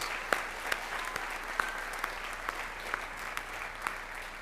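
Audience applause at a Northeastern senior class of 2023 awards ceremony honouring magna cum laude graduates, a steady wash of clapping from a large crowd with a few sharper claps standing out.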